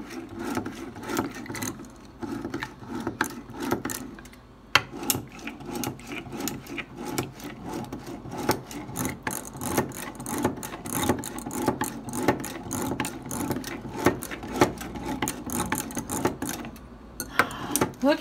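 A handheld Zip Whisk beats egg whites and cream cheese in a bowl for truffles, giving a busy, uneven scraping and clicking whir that continues throughout at close range.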